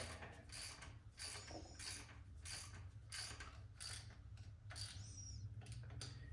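A hand ratchet runs bolts down on a 1987 Softail primary cover, a Shovelhead primary on an Evo engine, giving close, rhythmic bursts of rapid clicking repeated about every half second.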